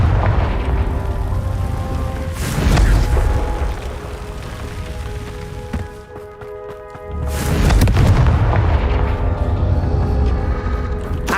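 Confringo spell blasts in the Hogwarts Legacy video game, loud rumbling booms with sustained roaring, a brief lull mid-way, then another heavy surge of blast noise up close, with game music tones underneath.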